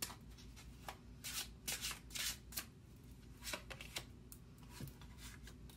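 Tarot cards shuffled steadily by hand during a reading, a close series of papery riffles and soft slaps that keep coming in quick irregular bursts with no talking.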